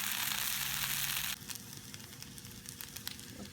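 Loud frying sizzle of hashbrown potatoes in a pan over a Trangia flame that abruptly drops to a softer crackle with scattered pops and faint clatter, close by.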